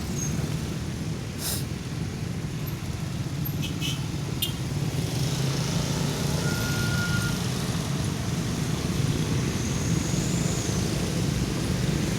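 A heavily loaded truck passes on a road at a busy city junction in Palembang, a steady loud engine and tyre roar that holds throughout with no speech.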